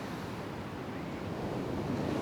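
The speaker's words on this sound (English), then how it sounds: "It's very windy" Steady wind roaring across an open beach in Antalya, Turkey, a broad continuous rush with faint surf underneath and no voices.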